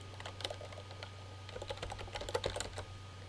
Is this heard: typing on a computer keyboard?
yes